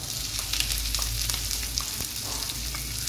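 Onion sizzling with garlic in a single pot for a one-pot rice lunch, a loud, dense, continuous frying hiss with small crackling pops throughout.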